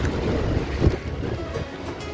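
Strong storm wind roars steadily into the microphone on Girnar mountain in the rain, a dense rumbling buffeting with no voices.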